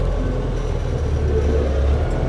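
Montana 5740 tractor revving in a high gear with the brakes held, a steady low engine rumble, close and continuous without variation.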